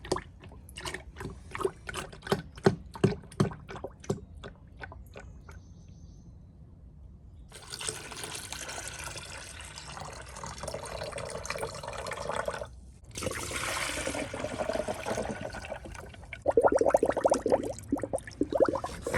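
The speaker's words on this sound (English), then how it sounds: "And why don't we put in 1/2 quart here, and then we'll also add 1/2 quart of our distilled water." Coolant and distilled water are poured into a Ford F150 radiator, starting with a rapid series of gurgling glugs from the bottle, then a steady trickling flow, close up and with no talking.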